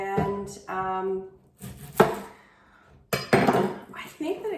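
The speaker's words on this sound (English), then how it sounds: "Gonna chop some onions." Onions are chopped on a cutting board with a knife in a few short bursts of firm, close knocks, separated by brief pauses, along with some light clatter; no one speaks.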